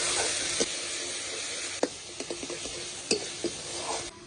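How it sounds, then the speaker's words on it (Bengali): Spices cooking down in a pan with tomato paste and salt give a soft, even sizzle, broken by a handful of sharp spatula taps and scrapes against the pan. "ভালো করে মশলাটা কষাবো একটু টমেটো বাটা দিয়ে দেবো"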